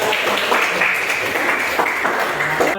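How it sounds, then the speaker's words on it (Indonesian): Clapping from a school class fills the clip, a dense patter of hands with faint voices mixed in. "tepuk tangan untuk kedua"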